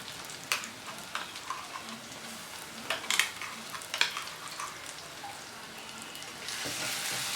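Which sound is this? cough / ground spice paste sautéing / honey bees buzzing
ground spice paste sautéing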